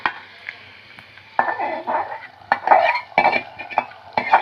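Fried almonds, cashews and raisins are tipped and scraped from a pan into a pot, with a spoon clinking and scraping against metal in short, close bursts between quieter pauses.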